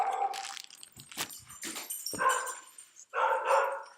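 A single dog barks repeatedly in a suburban cul-de-sac, a run of fairly close, sharp barks with short gaps, ending in a louder burst; no talking over it.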